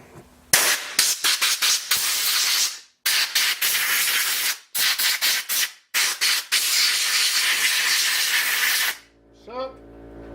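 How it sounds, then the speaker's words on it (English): Clean compressed air blasts engine parts during piston-to-conrod assembly in an LNF engine rebuild: a run of loud, close hissing bursts, some short and rapid, others sustained, separated by brief pauses, with a faint voice near the end. "Clean compressed air."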